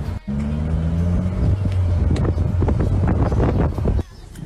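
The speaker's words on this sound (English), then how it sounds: "If you notice a vehicle behind you, like this black truck" A black truck drives close behind, its steady engine drone and road rumble running throughout with gusts of wind buffeting the microphone.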